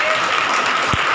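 Brief, dense clapping from a congregation at a Hindi Bible study gathering, loud and close throughout.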